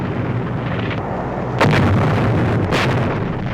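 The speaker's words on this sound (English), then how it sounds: "The Japs are bombing us from outside." Wartime bombing on Corregidor in 1945, heard as a steady rumbling roar with two heavy explosive blasts about a second apart, loud and close, with no speech.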